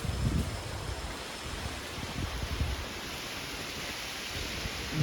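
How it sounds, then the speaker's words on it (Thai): Strong wind roars as a steady broadband rush through the trees at a wild mango tree where a wild giant honeybee nest is being harvested, with low gusty rumbles against the microphone. "ลมแรงเลยครับวันนี้"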